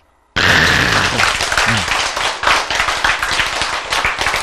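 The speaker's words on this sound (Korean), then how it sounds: "박수!" Sudden burst of congregation applause in a Korean church sermon, many hands clapping loudly and steadily right after a brief quiet moment, close and sustained to the end.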